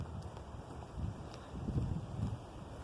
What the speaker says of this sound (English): So it looks like very windy day and it's blown a big branch off.